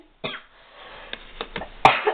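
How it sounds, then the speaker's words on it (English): A single sharp cough at the start, followed by a few softer throat noises and another harsh cough near the end, close and fairly loud. "I still can't seem to get rid of the cough."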